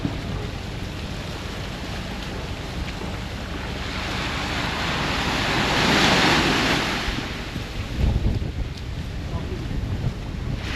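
Gentle waves break on a calm, flat sea along a Dominican white sand beach, with a soft swell of surf and steady wind buffeting the microphone.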